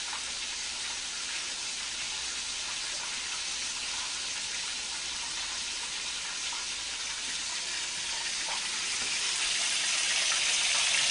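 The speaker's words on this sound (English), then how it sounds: "It's starting to fry up." Steady crackling sizzle of meat frying in hot oil, continuous and close, growing slightly louder toward the end.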